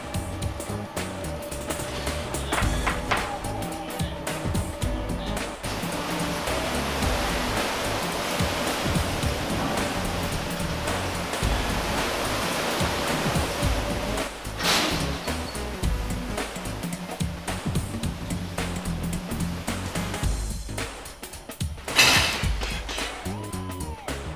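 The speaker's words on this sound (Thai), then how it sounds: "แล่นเรือผ่านทะเลเปิด ซึ่งเต็มไปด้วยคลื่นลมแรง" Steady broadband rush of open sea waves and strong wind heard from a boat near the Great Barrier Reef, continuous and fairly loud throughout, with no voices.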